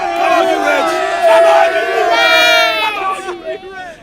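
A group of boys cheers and yells together loudly and up close, a sustained shout in support of Bristol City that rises and then trails off into scattered voices.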